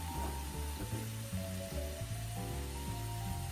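Meat frying on medium-high heat in a pan in a cooking game, a steady bright sizzling hiss running alongside stepping background music.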